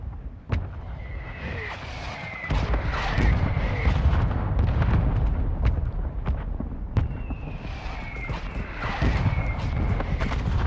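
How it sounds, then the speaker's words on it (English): Mortar shells from a called-in strike in Call of Duty: Modern Warfare II slam down in a rapid string of heavy booms over a constant rumbling battlefield roar, with sharp impacts breaking through repeatedly across the stretch. "Mortar strike inbound."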